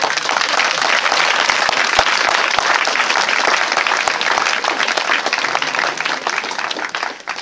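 A church congregation breaks into loud, sustained applause, dense continuous clapping that fills the room and only starts to fade in the last moment.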